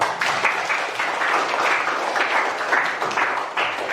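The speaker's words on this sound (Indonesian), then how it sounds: "Beri aplaus dulu." Students in a Year 10 geography class give a round of applause, a steady burst of group clapping heard up close without any talking.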